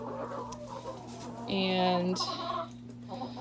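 Chickens clucking in a coop on a snowy day, one loud drawn-out squawk rising over a steady low hum while a person talks nearby.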